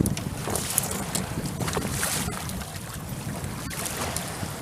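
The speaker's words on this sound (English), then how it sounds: "Turn up the throttle here so we can handle." A small outboard motor pushes a fishing kayak across Lake Tahoe with the throttle turned up, its steady low drone close and constant under gusting wind and splashing water.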